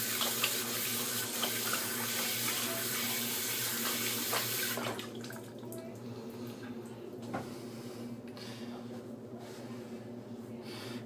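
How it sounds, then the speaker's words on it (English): Hands are rinsed under a running tap: a loud, steady gush of water for about five seconds, then a softer, lighter trickle with faint splashes. "I'm gonna rinse my hands."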